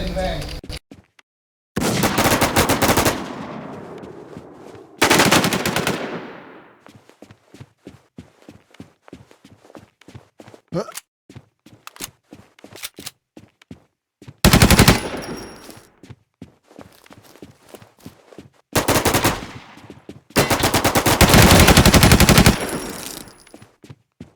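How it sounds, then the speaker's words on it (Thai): Gunfire in the video game WarZ, with loud sustained automatic bursts broken up by stretches of rapid footsteps, all close and harsh, and occasional voices in between. "มันยิงกันไม่ตายนี่หว่าในบ้าน"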